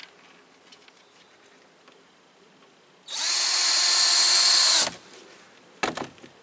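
A power drill backs screws out of wood siding with one loud, high whine lasting under two seconds, then stops, followed by a few faint clicks and knocks of handling nearby.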